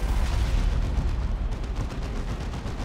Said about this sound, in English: There is the nuke from Made in England